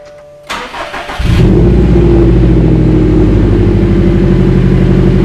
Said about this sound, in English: But here's the cold start.